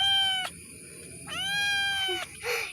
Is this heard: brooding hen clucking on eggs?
no